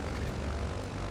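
Twin piston aircraft engines running in MS Flight Simulator, a steady, loud, broadband propeller drone that holds constant through the short stretch.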